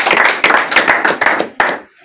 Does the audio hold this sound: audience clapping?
yes